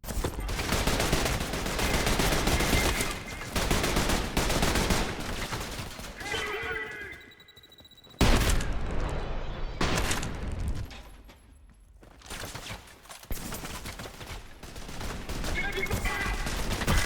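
Rapid bursts of gunfire and fusillades in the video game Trepang2, loud and continuous with brief pauses, a booming blast and someone talking intermittently over the shooting.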